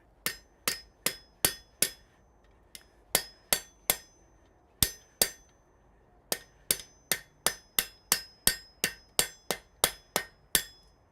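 A rawhide hammer strikes metal in a blacksmith's smithy, giving sharp, ringing hits in quick, even runs of several blows with short pauses between groups. The strikes are close and distinct, with no talking.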